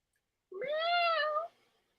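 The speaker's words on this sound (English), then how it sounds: "Kitty cat." A cat gives a single close, drawn-out meow lasting about a second, clear and alone with no talk around it.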